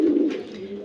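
A short, low pigeon coo, close and moderately loud, trailing off quickly.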